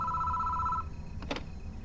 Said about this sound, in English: We can hear a phone ring inside the station before it stops.